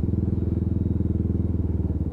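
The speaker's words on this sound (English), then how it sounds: "it sounds like an absolute gorgeous machine, this. Got a bit of a brat to that exhaust" A Lexmoto Tempest GT motorcycle being ridden, its exhaust giving a steady, slightly bratty low pulsing drone that stays loud and close throughout, with no voices over it.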